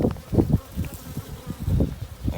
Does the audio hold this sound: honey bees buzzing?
yes